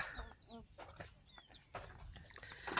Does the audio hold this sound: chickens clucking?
yes